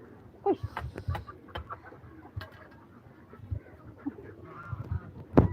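Chickens and ducks cluck and honk in scattered, fairly faint calls close by, with soft rustling and knocks between the calls.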